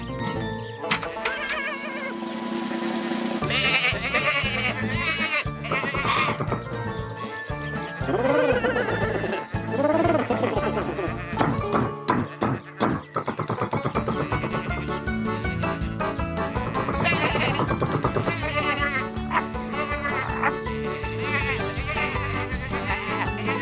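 Cartoon sheep bleat in an animated farm scene, several wavering bleats and animal calls layered over background music, loud and close with no clear talk.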